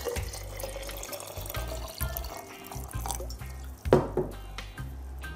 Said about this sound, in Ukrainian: Тепер мені потрібно ці горіхи залити водою.